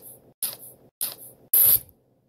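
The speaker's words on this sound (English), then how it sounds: "spray him in the face, Boy Blunder." Three sharp hissing spray bursts, the last one loudest and longest, separated by brief pauses with a low rumble underneath.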